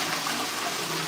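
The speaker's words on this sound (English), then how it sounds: "So we can now flush the toilet" Toilet in a newly plumbed bathroom flushing, a steady close gushing rush of water throughout.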